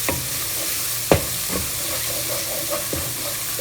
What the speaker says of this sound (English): Fry it nicely. It won't take much time. Don't leave the stove. Just mix it once